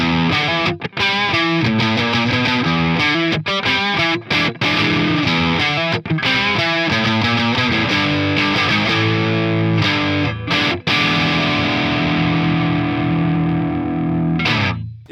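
Electric guitar, a Baum Revolt, played through a distorted Plexi-style amp setting: loud, crunchy chords and riffs with rhythmic stops, ringing out alone before fading at the end.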